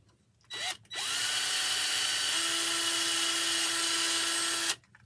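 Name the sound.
power drill drilling through a craft tray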